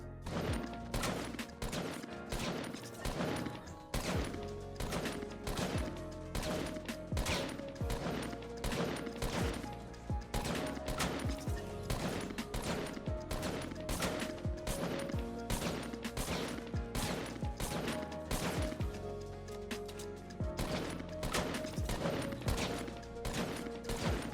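Rapid, continuous gunfire from a Fortnite match while a player scopes in and out between shots, loud and dense with repeated sharp reports and no pauses.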